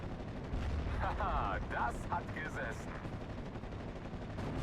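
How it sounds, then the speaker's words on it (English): A 17-pounder anti-tank gun fires at a Jagdpanther in the World War II Normandy video game Steel Division: Normandy 44, with loud booming shots and rumbling battle noise over a steady background din, and a voice talking over it. "Still under fire from the 17-pounder."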